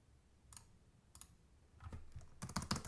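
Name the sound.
typing notes on a computer keyboard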